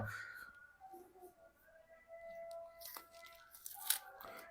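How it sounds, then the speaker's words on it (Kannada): Onion skins being peeled by hand, giving faint papery tearing and crinkling, with a few sharper crackly rips near the end over a quiet tonal background hum. "ಈರುಳ್ಳಿನ ಕಟ್ ಮಾಡೈತ್ರಿ ಮೇಲಿನ ಸಿಪ್ಪೆಲ್ಲ ಎಲ್ಲ ಪಟ ಪಟ"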